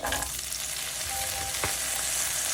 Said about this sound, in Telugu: వెల్లుల్లిపాయ వేగుతున్నప్పుడు పొటాటో కూడా వేయాలి.